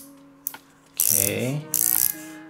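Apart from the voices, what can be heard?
clicks setting grind size on Kingrinder K6 hand coffee grinder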